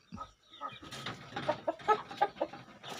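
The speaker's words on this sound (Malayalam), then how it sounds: "നമ്മുടെ പൂവൻ കോഴിയെ പരിചയപ്പെടുത്തുകയാണ്" A native rooster and hens cluck in short, uneven bursts that cluster and rise toward the middle, close and fairly loud, with no talk.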